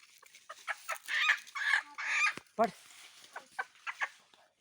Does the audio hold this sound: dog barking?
no